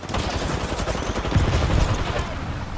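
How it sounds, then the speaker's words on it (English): Rapid gunfire in a video game firefight, loud and close, with rattling bursts over a heavy low rumble that thickens midway through. "I'm spotted. Taking fire."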